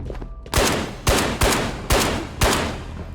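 Five evenly spaced, loud, close single rifle shots ring out in the video game Ghosts of Tabor, each with a sharp crack and a short decaying tail, no voices present.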